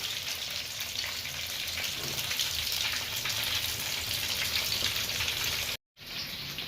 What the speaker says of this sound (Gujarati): તો આને આપણે થોડા 5-6 મિનિટ તળવા દેવાના